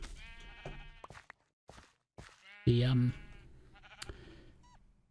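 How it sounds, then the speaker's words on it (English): Sheep in the Minecraft video game bleat in a short, loud burst, with other game noises and a player's quiet talk around it. "I can distract the evoker with some blue sheep, or at least a blue sheep"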